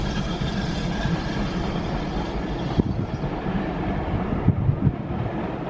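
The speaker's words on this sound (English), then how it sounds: "Train crossed in front of us." A steady, continuous rumble of a train rolling past a crossing at moderate distance in Brixham, with a few sharp clanks near the end and wind buffeting the microphone.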